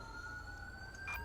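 A short, faint emergency vehicle siren with a steady wail sounds from the police game LSPD:FR in GTA V, heard in the distance with no talking.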